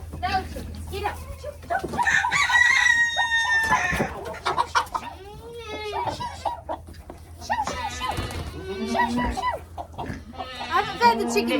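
Chickens cluck and squawk around a feeder on a backyard homestead, with a rooster crowing among them and someone talking close by throughout the busy, continuous flock noise.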